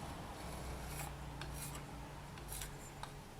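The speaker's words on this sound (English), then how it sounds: "I'm just going to scrape away the excess" Excess polymer clay is scraped away from a tile with a blade, giving short faint rasping strokes in bursts over a quiet room background, close by and with no talking.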